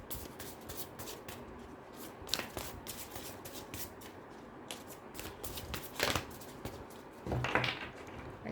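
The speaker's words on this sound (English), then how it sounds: "Let me just shuffle your cards." Tarot cards being shuffled by hand, a series of soft, papery riffling bursts and flutters in bunches with brief pauses between them, heard close up in a quiet room.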